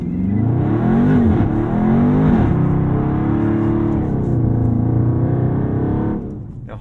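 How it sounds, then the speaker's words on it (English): A Dodge Charger Scat Pack Widebody in track mode with traction and stability control switched off accelerates hard, its engine roaring loud and close with rising, shifting revs that hold for several seconds before easing off. "let's try that again in track mode with traction control and stability control turned all the way off"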